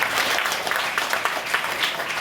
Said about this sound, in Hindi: ऐसी हमारी होनहार छात्रा के लिए जोरदार ताली।